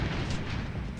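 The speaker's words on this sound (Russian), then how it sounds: "Метеориты падают, смотри." A single deep, rumbling boom of a meteorite impact in the video game Wrongworld fills the whole moment, heavy and close, with no voices.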